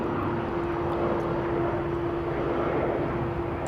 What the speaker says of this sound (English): Next up, ATR in from Newquay.